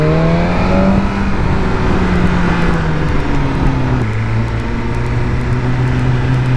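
BMW M1000R motorcycle engine under riding load, a steady loud drone with gliding pitch shifts as revs rise and fall through gear changes, continuous and close throughout.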